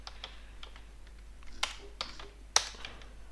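Quiet computer-keyboard typing as a sudo command is entered, a run of light, irregular key clicks capped by a few sharper, louder keystrokes.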